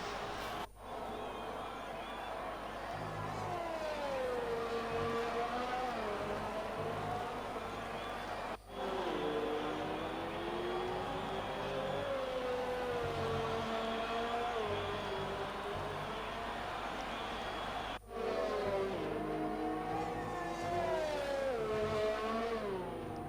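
F1 car on the formation lap in F1 2020 at the Russian round: a sustained engine drone with rising and falling pitch through gear changes, fairly close and continuous, with two brief cuts.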